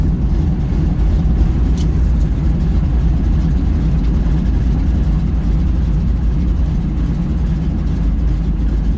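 The piston engine of a de Havilland DHC-2 Beaver floatplane drones loudly and steadily at close range, a deep continuous roar with no change in pitch throughout.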